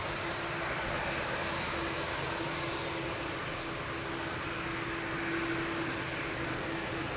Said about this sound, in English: So that was EasyJet coming in from Lyon. That just landed.